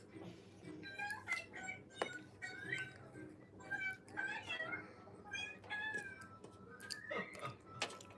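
A cat meows repeatedly in short, varied, plaintive cries, close and moderately loud, with brief pauses between calls.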